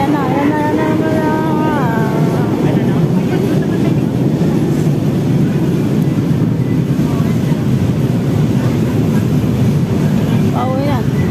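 Steady loud rumble of a train arriving at a station in Manila, Philippines, with continuous low roar and rattling, and a brief high squeal of brakes toward the end.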